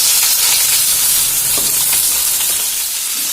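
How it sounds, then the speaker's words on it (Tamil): Onion pieces sizzle and fry steadily in hot oil already crackling with mustard seeds, cinnamon and cloves, a close, continuous hiss with faint scattered pops throughout. "ஆனியன் சேர்த்து நல்லா வதக்கி விட்டுக்கலாம்."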